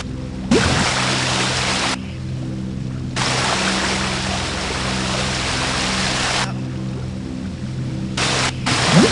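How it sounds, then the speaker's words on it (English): Steady roaring rush of a waterfall in the video game Thief Gold, continuous broadband noise with brief gaps, with a low hum underneath. "And there is a waterfall here."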